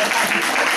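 Applause from an audience as children receive award certificates at an art school exhibition, a dense, steady patter of clapping filling the short moment, with faint voices mixed in.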